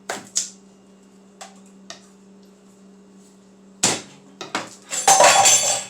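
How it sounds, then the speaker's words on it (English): A metal spoon drops in a kitchen, with sharp clattering metallic hits against a hard surface, a few isolated clinks first, then a louder burst of rattling near the end, close by with low background hum. "Oops, dropped my spoon."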